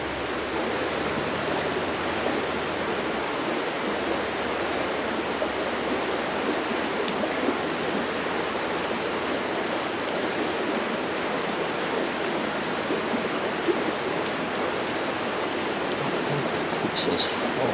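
Goldenrod tea is poured through a filter in a steady, continuous rushing stream of liquid that holds at an even level throughout, with no talking.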